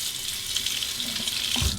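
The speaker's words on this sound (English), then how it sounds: "Let's take our Shave Nation wide stick alum block under cold water." Cold water runs steadily from a tap over an alum block at a shaving sink, a close, continuous hissing splash that shifts slightly near the end as the block moves through the stream.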